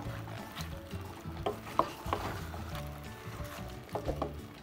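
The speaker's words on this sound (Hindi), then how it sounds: "थोड़ा सा मिक्स करेंगे." Moong dal with bottle gourd, tomatoes and green chillies stirred in a pan, soft scraping and sloshing strokes over a low simmering sizzle, close and quiet, with a few sharper clinks of the spoon against the pan.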